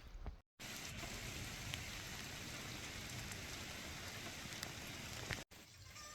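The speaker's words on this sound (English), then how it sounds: "It's kind of turned into a rainy morning here on the homestead" Steady rain falls on an Oregon homestead on a wet morning, a dense, even hiss of drops that holds throughout with two very brief dropouts and no talk.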